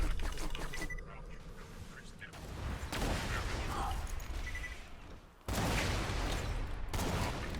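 Cobra rifle fired from the hip in Borderlands 2, a dense run of rapid gunshots filling most of the stretch, pausing briefly near the middle and resuming loud at the end.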